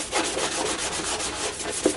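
Rapid back-and-forth scuffing of a sanding block on replica Stormtrooper armor, steady rhythmic rasping strokes, close up.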